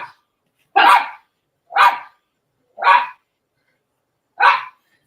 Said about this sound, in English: What what what are your dogs barking at?